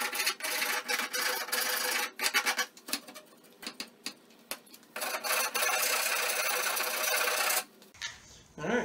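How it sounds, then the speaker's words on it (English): A rasp works the corner edge of a used wooden crate in bursts of coarse, scratchy strokes, close and fairly loud, with short pauses between them and a change in sound near the end. "All right, so a little bit of rasping there."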